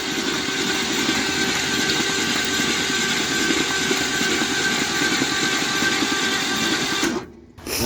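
The engine of an abandoned Buick Skylark cranks over with its spark plugs removed, a loud, steady, fast-cycling whir that runs unbroken for several seconds before cutting off abruptly.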